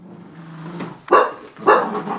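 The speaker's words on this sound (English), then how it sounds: "I'm sorry, Lacey, I just need to get a picture of you barking." A shy, reactive dog barks twice in sharp, loud bursts at close range, the first bark following a low growl or whine, with no talk over it.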